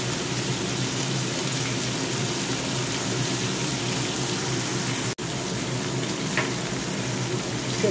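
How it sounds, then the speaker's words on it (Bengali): Vegetables fry in a pan with mustard, poppy seed and ginger pastes, giving a steady, dense sizzle that runs close and continuous with no talk, broken only by a split-second dropout near the end. "সবজিগুলো দেখো ভাজা হয়ে গেছে।"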